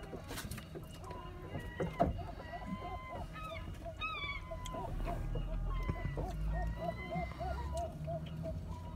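Loud, repeated squawking seagull calls close by, several gulls calling over one another in a busy outdoor scene with some rumble and faint voices.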